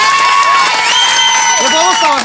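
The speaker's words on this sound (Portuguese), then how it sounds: "Então palmas pra Raira" Studio audience cheering and applauding for a contestant named Raira, a dense, loud wash of crowd noise with high whoops and shouting voices rising over it throughout.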